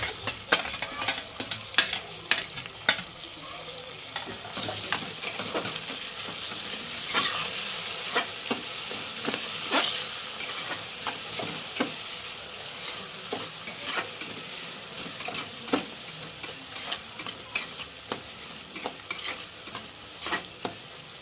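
Tomato and coriander leaves fry in hot oil in a pan, a steady sizzle broken by repeated sharp scrapes and clicks of stirring, close and fairly quiet, with no talking.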